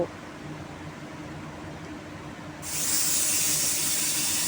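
A steady hiss swells suddenly into a loud, sustained jet of steam escaping from a pressure cooker whistle, blowing without a break.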